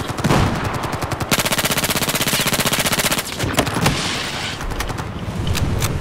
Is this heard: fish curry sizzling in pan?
no